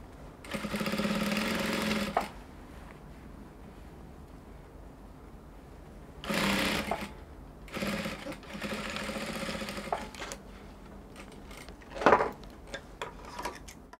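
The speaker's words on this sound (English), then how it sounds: "So I'll take to the sewing machine, I'll go and join it together now." A sewing machine whirs in several separate runs stitching a gown's pencil skirt to a zip allowance, the first and longest lasting about two seconds, with quiet pauses, clicks and fabric handling in between.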